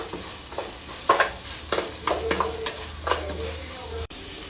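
Spices being stirred into brinjal in a pan, a spoon scraping and clacking in irregular strokes over a low sizzle, close and fairly loud, with a brief cut near the end.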